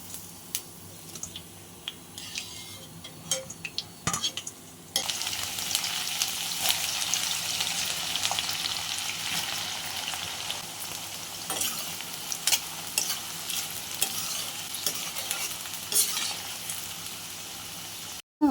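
Okra deep-frying in hot oil, quiet scattered clinks and stirring at first, then a sudden louder steady sizzle that continues with occasional ladle taps against the pan.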